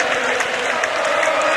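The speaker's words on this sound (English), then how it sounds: "Crowd are just whipping up a kind of a football chant here." A stadium crowd at a concert tour at the RDS Stadium in Dublin, 1993, raises a dense, sustained roar of voices in a football-style chant, heard for a brief moment.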